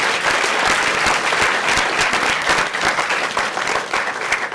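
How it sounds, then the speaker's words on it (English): An audience at a school plenary presentation breaks into loud, continuous applause, dense clapping filling the whole stretch with a few faint voices underneath. "let's hear a round of applause for all of you guys"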